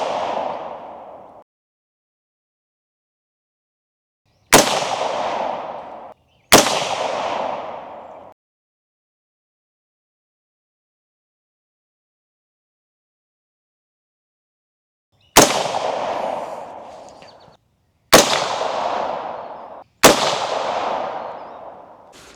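Rifle shots fired while sighting in a GOYOJO GRS225RF thermal scope at a target: five sharp, loud reports, spaced irregularly with long silent gaps, each trailing off in a brief echoing decay.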